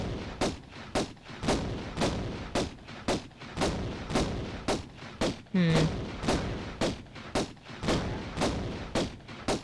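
Rapid, evenly spaced gunshots from a video game firefight, roughly two blasts per second in a steady punchy rhythm, loud and close, with a short burst of higher tonal sound partway through.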